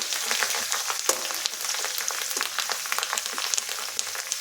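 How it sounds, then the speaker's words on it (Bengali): Curry leaves crisping in a pan of hot oil for a spiced poha snack give off a loud, dense crackle and sizzle, with sharp pops scattered steadily throughout. "এখন ওই তেলেই কিছু কারি পাতা ভেজে নিচ্ছি"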